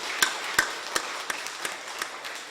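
Rhythmic, evenly spaced claps from a church congregation, sharp and sparse at first, then fading into softer, scattered clapping.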